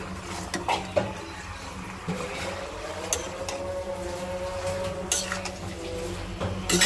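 A utensil scrapes and clinks against a pan while spiced tripe curry (bhuri) is stirred and cooked down, giving irregular metallic taps over a low sizzling bed, close and moderately loud.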